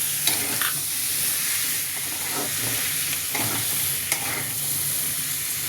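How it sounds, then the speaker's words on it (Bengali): Mushroom curry mixture is stirred in a pan: a constant close sizzle with a few sharper scrapes and clicks of the utensil against the pan. "ভালো করে এটাকে মিশিয়ে নিচ্ছি"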